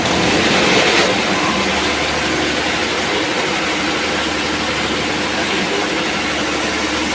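A large self-starting generator engine runs at a steady idle, a loud continuous low rumble with a constant mechanical drone throughout.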